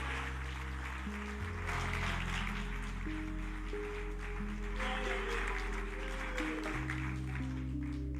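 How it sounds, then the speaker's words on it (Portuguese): A church congregation claps for Jesus during an evening service, a steady wash of applause running the whole time beneath sustained organ-like keyboard chords. "dê uma salva de palmas para Jesus"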